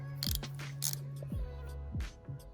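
Ratchet wrench with a Torx T50 bit loosening a seat belt bolt in a 2014 Ford Powerstroke truck cab, several close clicking ratchet strokes and metallic creaks spread unevenly over a few seconds.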